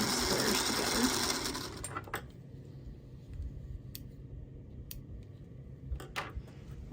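A sewing machine runs steadily and loudly up close as it stitches 1.5 inch fabric squares for a quilt block. The motor stops after about two seconds and is followed by scattered clicks and the handling of fabric.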